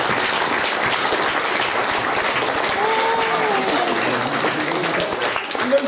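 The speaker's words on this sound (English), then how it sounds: "Round of applause for that." Wedding guests applauding a speech, dense continuous clapping from a room full of people, loud and close, holding steady throughout with faint cheers mixed in.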